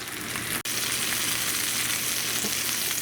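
Mushroom caps fry in a pan with a loud, steady, close-up sizzle that cuts out for an instant early on and then continues evenly.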